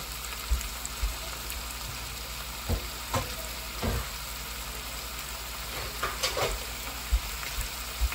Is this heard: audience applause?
no